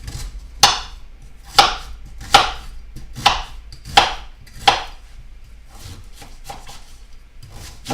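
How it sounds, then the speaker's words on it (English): A knife chops an onion on a cutting board in about six sharp, evenly spaced strokes, close and crisp, followed by softer, quicker cuts, with no talking over them. "I'm going to go ahead and cut the onion."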